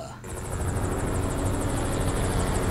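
A continuous helicopter rotor roar in Resident Evil 6, with a rhythmic high-pitched whine pulsing over the drone after a brief quieter start, close and steady throughout.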